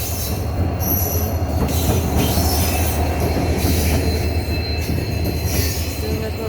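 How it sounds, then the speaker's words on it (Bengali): A train rolls in close by with loud, sustained metal wheel squeal over a steady rumbling of railcars, continuous throughout. "ট্রেনটা আসছে দেখুন আপনারা"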